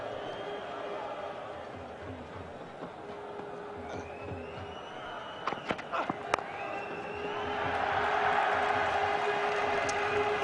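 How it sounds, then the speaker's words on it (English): A stadium crowd applauds a batsman reaching fifty during a 2004 England v India one-day international in London. A steady, distant wash of clapping swells louder toward the end, with a few sharp knocks midway and a commentator's voice underneath. "The applause goes up because"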